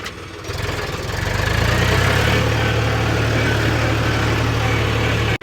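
A tractor engine rumbles steadily close by while compacting silage in a pit, a low, throbbing drone that swells slightly after the start and holds constant, ending with a brief click.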